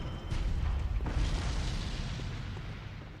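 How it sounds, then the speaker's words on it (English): Cannon fire in the video game Bloodborne: a deep booming blast with a rumbling tail, loud and continuous, with a sharper second impact near the start and no talking. "So there's 2 cannons."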